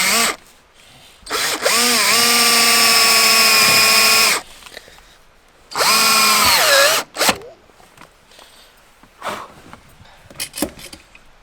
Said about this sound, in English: I drilled through the piece inside that locks it.